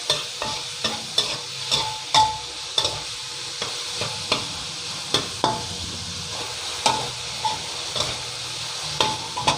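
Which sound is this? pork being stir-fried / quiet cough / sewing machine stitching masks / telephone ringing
pork being stir-fried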